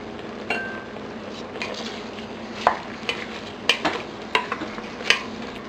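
A spoon stirs cinnamon sticks and curry powder into a pot of beef curry, scraping softly over a faint sizzle, with several sharp clinks against the pan toward the end.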